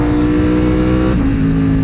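A Ducati Panigale V4 Tricolore Italia motorcycle engine revs loud and close in a brief, continuous burst, its pitch dropping partway through as the revs ease off.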